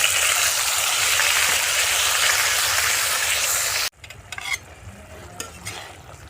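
Ground spice paste hits hot oil already tempered with bay leaves and dried red chillies for a jackfruit and potato curry, giving a loud, steady broadband sizzle that cuts off abruptly, followed by softer crackling and a few stirring scrapes.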